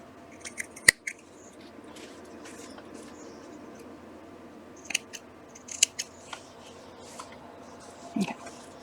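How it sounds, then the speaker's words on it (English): Large scissors snipping through quilt fabric in a few quiet, scattered cuts, soft and close, with low background hum between them. "I may have to get my giant scissors."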